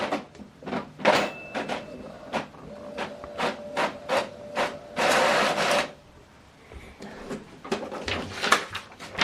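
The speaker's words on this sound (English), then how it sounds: "Now this document is printing." An Epson EcoTank ET-5150 printer prints a document, with repeated short mechanical whirs and clunks of the paper feed and print head, a longer steady burst midway, close and clear without talk.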